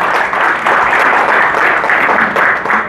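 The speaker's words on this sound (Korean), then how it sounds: "여러분 박수로 맞아주시기 바랍니다" Audience applause at the opening ceremony of an art fair in a Songdo hotel hall, a steady, dense clapping from a crowd that holds evenly loud for the full three seconds without speech.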